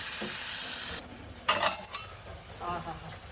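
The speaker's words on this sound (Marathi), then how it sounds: "आणि वाटण छान फ्राय करून घेऊया आता आपण हे" Ground masala paste frying in a pan on a home stove, a steady bright sizzle for the first second that drops away, followed by a few scraping stirs and soft clinks of a utensil against the pan.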